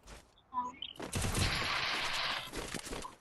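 Video game gunfire rattles in a dense, sustained burst after a brief faint lead-in, loud and fairly close, then tapers off.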